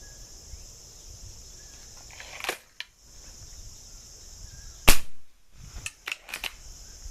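An air rifle fires 7.4 grain pellets through a speed test. Several sharp, close cracks ring out alone, with short gaps between them, over a faint background hiss.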